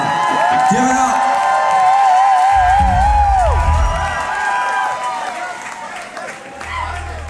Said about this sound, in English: A crowd making noise in LA